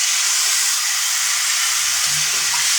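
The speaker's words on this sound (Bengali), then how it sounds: "মাংস তরকারিটা কষাই নিব, কষায়া তারপরে জল দিব" Chicken curry meat sautéing in a pan gives a steady, close broadband sizzle that stays even throughout, with faint low stirring scrapes underneath and no voices.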